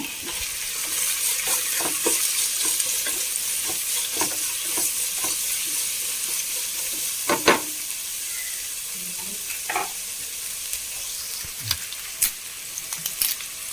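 Sliced onion and two green chillies fry in a pan, a bright continuous sizzle close by, broken by scraping and knocking as a spoon stirs them every second or so.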